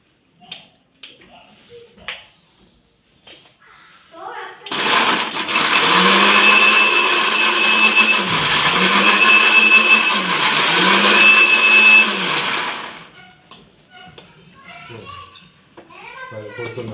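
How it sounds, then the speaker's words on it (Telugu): A mixer grinder blending tomato chutney whirs loudly and steadily for about eight seconds, its motor dipping in regular pulses, close by, with brief taps and talk before and after. "సో దీన్ని మిక్సీ పడతాను ఒకసారి."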